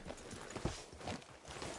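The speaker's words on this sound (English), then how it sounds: "Hitch your horse up here." Horse hooves clip-clopping at a walk in the Red Dead Redemption 2 video game, a steady run of soft, close hoof beats with one sharper thud partway through and no talk.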